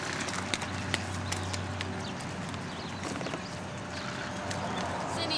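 A horse's hooves clip-clop in a loose, uneven rhythm at moderate distance, mixed with background noise and some talking.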